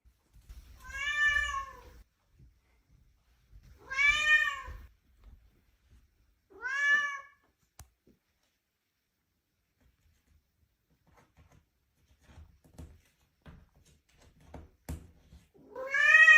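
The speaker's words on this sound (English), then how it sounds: "Cat." A cat meows four times, loud, drawn-out, plaintive calls spaced a few seconds apart, with quiet gaps and faint background rustling between them.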